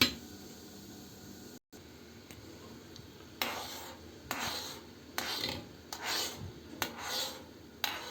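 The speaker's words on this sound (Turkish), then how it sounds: "Şöyle kaşığı kazır gibi yaptığımda hiç kireç takılmıyor." A metal spoon scrapes repeatedly inside a descaled teapot, a series of rasping strokes close by that grow louder and more rhythmic toward the end, with no talking.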